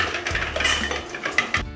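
Boiled eggs are drained from a metal pot and set into an ice bath, giving a quick run of close, bright clatter and knocks with watery sloshing, ending in a couple of sharp clinks.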